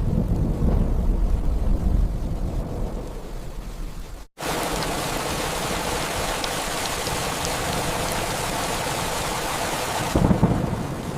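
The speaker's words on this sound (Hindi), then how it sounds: "ऐसे ही एक दिन बहुत तेज बारिश हो रही थी।" Heavy, steady rain pours down with a continuous roar of thunder and rumble throughout, loud and dense, with a brief dropout before the downpour resumes at full strength.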